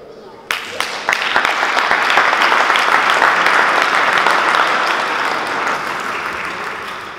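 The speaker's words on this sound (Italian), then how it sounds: "Veramente Maria Teresa merita un applauso." An audience breaks into applause for Maria Teresa at an exhibition talk on architect Giuseppe Terragni, starting with a few sharp claps and swelling into steady, full clapping that holds and slowly tapers.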